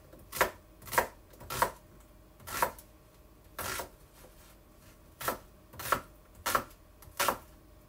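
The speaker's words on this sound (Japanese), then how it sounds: "玉ねぎも切っていきます。" An onion being chopped with a kitchen knife on a cutting board, about a dozen distinct, close knocks in an uneven rhythm with brief gaps, alone with no talk.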